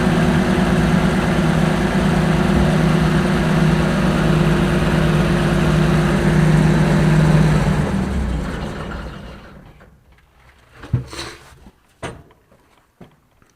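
A heavy combine engine idles with a steady low rumble and hum, then shuts down and fades, followed by a few scattered clunks.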